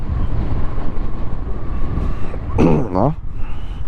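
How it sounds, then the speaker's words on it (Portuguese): Strong wind roars and buffets the microphone during a motorcycle trip, a loud, rumbling, gusting wash throughout, with someone briefly speaking partway through. "Que vento, velho."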